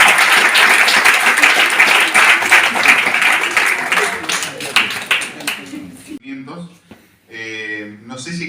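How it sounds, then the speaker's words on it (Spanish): Applause from an audience at a quantum-cards talk at Casa del Tibet, dense steady clapping for about six seconds that thins out, after which a voice speaks near the microphone. "quiero que le demos un aplauso"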